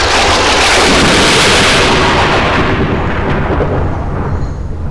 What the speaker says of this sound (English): Let me end the demonic scum with a fireball.